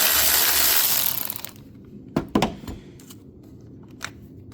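A cordless M12 ratchet with a 10mm socket whirs loudly while loosening the negative battery terminal on a 2009 Honda Civic, then stops, followed by a few sharp metallic clicks and clunks.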